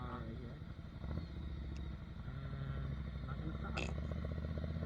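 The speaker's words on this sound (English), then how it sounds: "Engine brake, slow down." A Ducati Monster 797 motorcycle engine brakes while downshifting toward first gear at a stop sign, a close, steady low burbling rumble that deepens partway through, with a brief clack of a gear change near the end.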